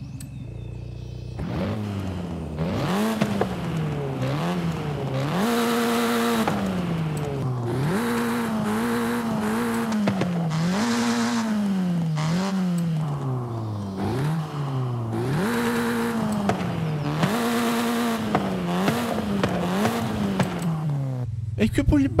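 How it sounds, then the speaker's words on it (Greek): Stock car exhaust in Forza Horizon 5 revving hard through repeated rising gear pulls, each climb cut by a shift, loud and continuous throughout with no talk over it. "Να ακούσουμε λίγο εξαρμισούλα εργοστασιακή."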